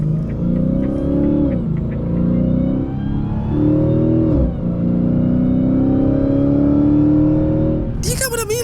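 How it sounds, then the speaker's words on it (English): A loud Dodge Hellcat engine in Forza Horizon 5 revs and holds high through the gears, a steady mechanical drone with supercharger whine and a shift dip midway, then a sharp high burst at the end. "Hellcats are very well known for their very loud supercharger whines"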